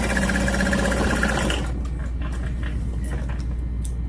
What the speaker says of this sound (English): Okay, got that top stitched.